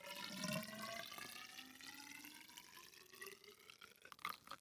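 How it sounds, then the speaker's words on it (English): Water mixed with milk powder pours into a tall tube, a steady close splashing and trickling stream that runs the whole time with a brief louder burst near the start and no voices. "I'm going to pour it into this tall tube"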